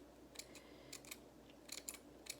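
Small crappy scissors snip hair in short, crisp bursts, a few quick cuts then pauses, close and faint with no talking.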